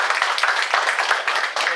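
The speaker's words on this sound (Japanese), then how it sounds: "決定する人は拍手してきますかね。" Residents at a town meeting about relocating a coastal district to higher ground in Kitaibaraki, Japan, clap together to approve a decision, a brief burst of dense, close, rapid hand claps.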